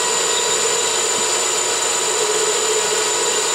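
A 9x20 CNC lathe cuts metal with a steady, continuous high whine over a broad hiss, constant in loudness throughout and close to the microphone, with no talking.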